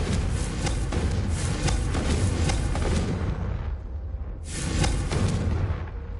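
Spell blasts in the Hogwarts Legacy video game, a run of loud booming, crackling bursts that fade into a short lull before another heavy blast erupts.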